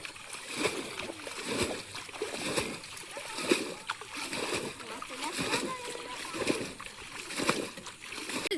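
A small puti fish is dropped back into a shallow village pond, with repeated close watery splashes and sloshing rising and falling in an irregular rhythm against a hissy outdoor background.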